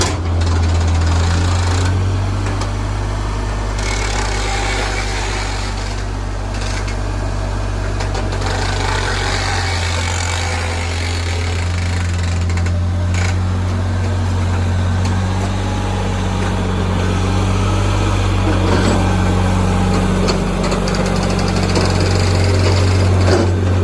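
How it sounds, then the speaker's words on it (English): The engine of a tractor fitted with a front loader runs at a steady, loud idle throughout, a constant low rumble close by with no voices. "But the tractor itself runs well."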